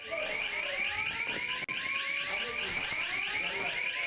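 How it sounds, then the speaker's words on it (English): An alarm sounds inside a building during an armed-suspect police response. It is a loud, continuous, warbling electronic tone, close by and steady, with one brief dropout. "The alarm's kind of a pain in the ass."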